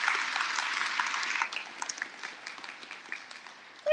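A crowd applauds award winners at a Houston Police cadet graduation ceremony: a dense, loud burst of clapping that thins after a second and a half into scattered, fading claps.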